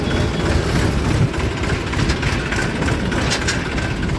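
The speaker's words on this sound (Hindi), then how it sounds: "ट्रैक्टर पीछे हटाना पड़ रहा है" A tractor engine runs steadily while reversing in a village lane, a loud, continuous diesel rumble close by with no pauses and no one talking.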